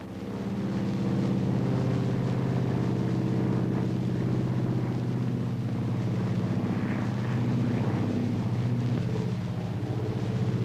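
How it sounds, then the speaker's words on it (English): A 1940s-era airplane engine hums steadily and continuously at moderate volume, a low even droning roar with no voices. "They've got a new contraption. They call it the airplane."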